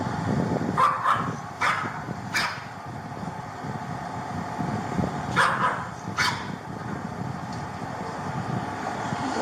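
A dog barks outdoors in a few sharp bursts, a pair early and another pair later, moderately distant over steady background noise with passing traffic.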